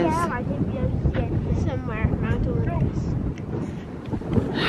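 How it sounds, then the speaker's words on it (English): Steady, cold wind on a mountain in Olympic National Park buffets the microphone with a broad rushing roar while a person talks over it. "It's pretty cold and windy up here."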